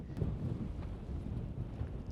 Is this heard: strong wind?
yes